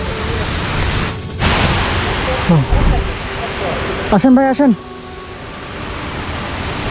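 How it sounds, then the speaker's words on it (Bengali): The Saingpra waterfall in the Bandarban hills near Alikadam sends a steady, broadband roar of falling water through the whole stretch, with a few brief spoken words and calls rising above it. "আমরা প্রায় ঝর্ণার কাছাকাছি চলে আসছি। ওই ঝর্ণা একটু করে দেখা যাচ্ছে।"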